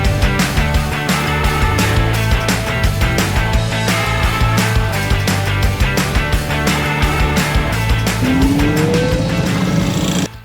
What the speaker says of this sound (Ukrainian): Копаємо. Копаємо мотоблоком.